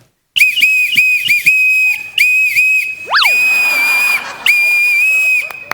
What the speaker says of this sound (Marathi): याच्यावर मी शिट्टीवरची गाणी असा मनोरंजनाचा कार्यक्रम करणार.